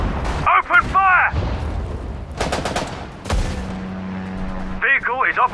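Battle sounds from the Sudden Strike 4 video game: rapid gunfire volleys and booming artillery mixed with shouted unit voice lines and a low engine drone.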